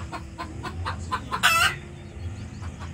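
A hen about to lay eggs clucks in a quick series of short calls close by, rising to one louder, drawn-out squawk midway, with faint farmyard background.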